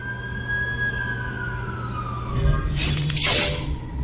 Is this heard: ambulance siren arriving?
yes